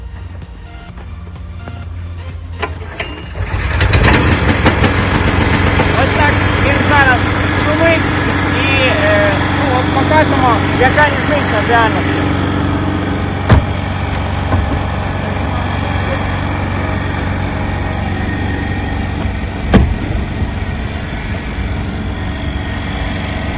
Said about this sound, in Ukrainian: ну заведіть, будь ласка, генератор